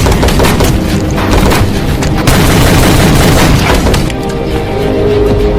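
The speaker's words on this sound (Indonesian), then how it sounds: "Robert lalu menembaki mereka semua" A sniper in a film scene shoots down a group of mafia men: a loud, dense barrage of booming gunfire that runs almost nonstop, with heavy blasts layered over each other.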